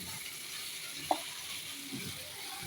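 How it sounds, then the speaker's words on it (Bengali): Elephant apple (chalta) pickle is stirred in a pan over low heat with a soft, steady sizzle, broken once by a single brief clink of the spoon against the pan. "একটু নাড়াচাড়া করে নিলাম।"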